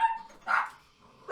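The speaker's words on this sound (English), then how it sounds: "Why are my dogs so loud?" Dogs bark in a home, three short sharp barks spaced across about a second and a half, close and moderately loud with no talking.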